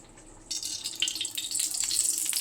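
Ghee poured onto cut tofu while cooking a tofu capsicum gravy: a steady, splashy trickle that starts about half a second in and swells slightly louder toward the end, close and alone.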